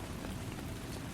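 Soft, steady rain patters on a surface, a continuous quiet hiss of drops with no breaks or other sounds across the short stretch.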